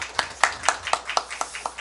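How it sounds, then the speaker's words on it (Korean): A church congregation applauds its worship team with rhythmic claps, about eight sharp beats in even, quick succession, heard close and clear. "찬양팀에게 우리 격려와 감사의 박수 한번 하시겠습니다"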